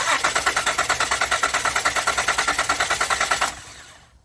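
A 2013 Honda Odyssey engine cranks rhythmically on the starter during a compression test, loud even pulses repeating for about three and a half seconds before cutting off abruptly.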